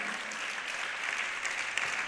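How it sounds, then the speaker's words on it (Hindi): An audience at a Jain religious discourse claps for the organizing committee, giving steady, dense applause from the whole crowd that stays even and fairly loud from start to finish. "और एक बार हमारी कमेटी के लिए ताली बजाओ"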